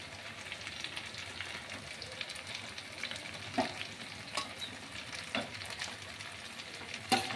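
Pressure-cooked mutton poured into a hot pan, a steady close sizzle and fry with occasional scraping and stirring clicks over a continuous hiss.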